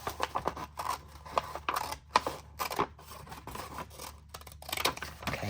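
Scissors cut through 12x12 scrapbook paper, making a close series of crisp snips and papery rustles in an uneven rhythm, with the sheet crinkling as it is handled.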